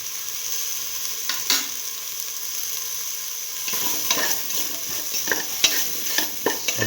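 Salt being stirred into okra, potatoes and mint frying in a pan for yellow rice. A soft sizzle runs underneath, then a spoon scrapes and taps against the pan in quick irregular strokes.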